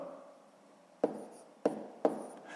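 A pen or pencil writes numbers by hand on paper, a faint scratchy scribble followed by three sharp taps of the writing tip spaced evenly apart in a quiet room.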